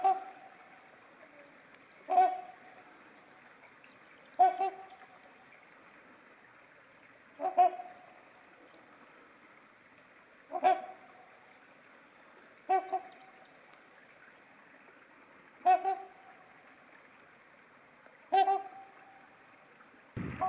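Swans calling on a pond in the woods near an off-grid cabin, a series of short nasal honking calls repeated about every two to three seconds, moderately distant over a quiet background.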